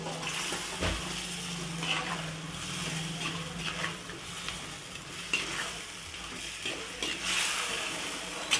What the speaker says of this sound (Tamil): சிக்கனை இதோட சேர்த்து நல்லா மிக்ஸ் பண்ணி விட்டுட்டு